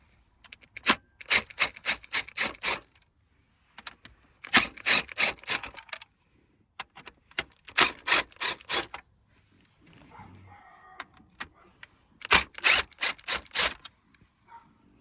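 T10 bolts being unscrewed from a 2019-2024 Dodge RAM dashboard, several bursts of rapid ratcheting clicks, close and crisp, separated by short pauses with faint handling noise between them.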